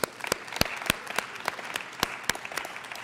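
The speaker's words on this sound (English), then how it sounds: "I'd like to give AT&T another round of applause if we could." An audience at a tech event gives a round of applause, a moderate patter of many hands with several sharp, close claps standing out.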